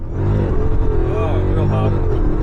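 An 850hp Dodge Charger SRT Hellcat launching hard in first gear, a loud, close engine roar with rising, wavering revs held throughout, with voices faintly underneath.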